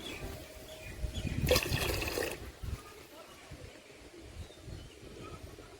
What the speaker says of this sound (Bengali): তাই আমি কিছু জল বালতির মধ্যে ফেলে দেবো